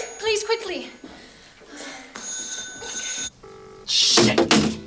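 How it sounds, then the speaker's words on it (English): A telephone rings with bright, metallic bursts of ringing between stretches of urgent speech, loud and close indoors. "Come on, pick up the bloody phone."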